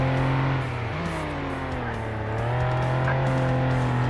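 A Ford Crown Victoria drives in the video game Flashing Lights, its engine a steady, close, loud drone that shifts pitch slightly as it revs, with no talking.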